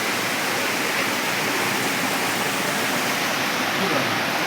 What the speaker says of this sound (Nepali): बिस्तारै बिस्तारै समात्दै छ झरना